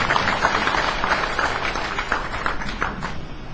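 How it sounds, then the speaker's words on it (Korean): Applause from an audience at a formal Korean ceremony, steady dense clapping sustained throughout without speech. "박수 한번 드립니다"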